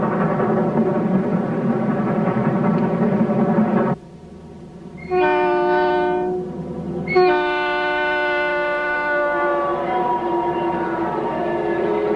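Southern Pacific 4449 steam locomotive pulling the Daylight from Portland to Los Angeles, 1984: a loud rumbling train run, then two long, near, multi-tone horn blasts sounding alone over the continuing roll.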